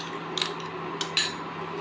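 A bread rasmalai mixture being stirred in a pan, a few quick metallic scrapes and clinks of a spoon against the pan, close and fairly soft.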